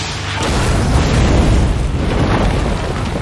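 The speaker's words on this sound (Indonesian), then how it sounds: "Panzer terakhir itu pun hancur seketika. Namun Owens terpaksa menahan trauma kejut akibat ledakan tersebut." A Panzer tank blows up in the war film Saints and Soldiers, a loud deep blast that swells into a long rumbling roar lasting several seconds.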